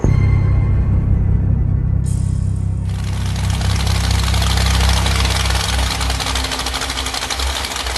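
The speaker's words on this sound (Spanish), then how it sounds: "Bunchiro fue despertado por el sonido de una lancha que llegaba" A motorboat engine approaches with a loud, steady low drone that runs unbroken for the whole stretch, with no voices over it.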